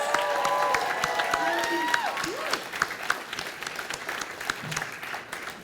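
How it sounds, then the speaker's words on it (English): Guests at a wedding toast give a round of applause, a dense burst of clapping and scattered cheers that tapers off as a voice starts speaking over it. "can we get a round of applause"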